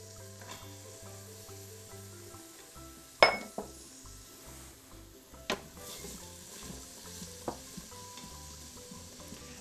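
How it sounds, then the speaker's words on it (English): Food sautés inside a pressure cooker pot, with a soft steady sizzle, occasional stirring scrapes and a few sharp clinks of a utensil against the metal pot, quiet and close. "we're just gonna saute it until it's just translucent"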